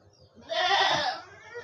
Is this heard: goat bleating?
yes